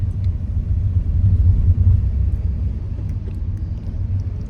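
A car engine runs steadily during a family drive to Mahabaleshwar, giving a continuous low rumble that stays even and fairly loud throughout, with no talk.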